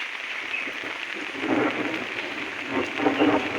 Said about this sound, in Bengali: ব্যাপক বৃষ্টি হচ্ছে ওদিকে